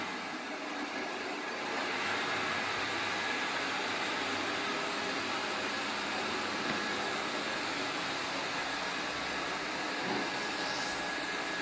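An iRobot robot vacuum cleaner runs in automatic zigzag mode, giving a steady, continuous whirring drone that holds at an even level throughout with no speech.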